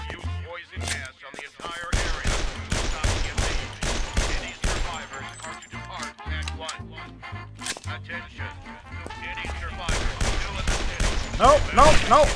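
Rapid volleys of gunfire from the video game Guns, Gore & Cannoli, loud and close, with bursts crowding one another over a low musical bed.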